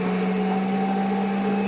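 An electric sander runs on battery power in a barn, a loud steady motor whine with a constant hum throughout the short burst, with no talking.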